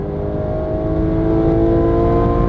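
A Porsche GT3 engine pulls hard and loud after an upshift on a racetrack, its rising, sustained roar building steadily with dense harmonic whine.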